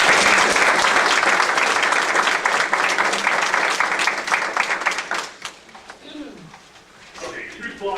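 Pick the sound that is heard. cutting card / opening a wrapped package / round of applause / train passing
round of applause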